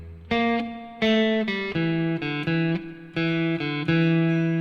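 An electric guitar plays a bluesy phrase of distinct single notes, each plucked and sustained in a loose, unhurried rhythm, clear and up close.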